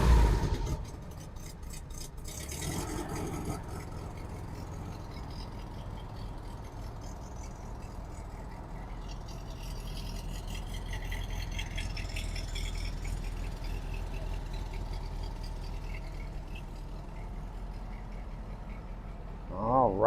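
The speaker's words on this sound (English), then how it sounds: "Wanna hear the engine" A 1950 VW Beetle's air-cooled engine runs steadily at idle, giving a continuous low rumble with some rattle throughout, close to the microphone and with no talk over it.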